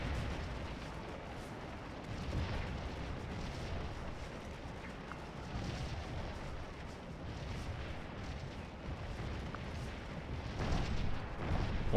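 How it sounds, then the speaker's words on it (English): Artillery batteries fire in the Civil War battle game Scourge of War: Antietam, a constant rumbling battle din with dull, distant booms rolling through it, fairly quiet and without talk. "Batteries of enemy guns over here."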